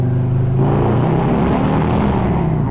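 A loud car engine revs and rumbles through a deep, throaty modified exhaust, the pitch rising and falling over a few seconds.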